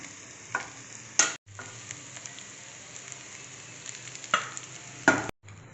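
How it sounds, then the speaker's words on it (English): Steamed poha (flattened rice) being stirred in a kadhai, a soft continuous scraping and rustle with a few sharper spoon knocks against the pan, close and fairly quiet, no talk. "So I'm mixing the poha, the steamed poha."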